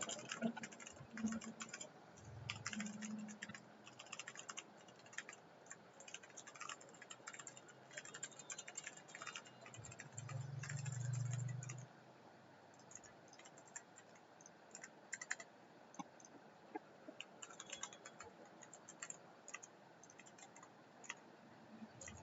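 Code is typed on a computer keyboard in a coding session, a faint but steady stream of quick key taps with a brief low hum partway through and no speech.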